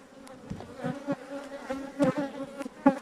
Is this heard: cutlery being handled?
no